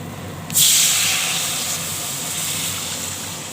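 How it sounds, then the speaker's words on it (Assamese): Water poured into a hot pan after frying gives a sudden sharp sizzling hiss that bursts up loudly, then settles into a steady bubbling steam. "এতিয়া পানী দি দিম মই"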